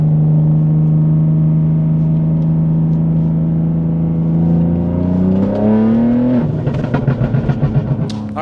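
A Stage 2 tuned BMW G80 M3 drones steadily on a dyno, then its revs rise sharply into a loud, crackling burst, with popping pulses trailing off at the end.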